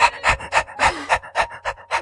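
A dog panting rapidly and close up, with quick rhythmic breaths in and out about five per second, loud and unbroken.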